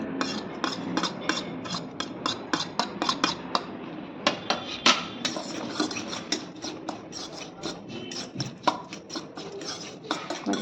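A spoon clatters against a bowl as chopped chilli, onion and coriander are mixed for egg and brinjal fry, in quick, uneven, close clinks and scrapes.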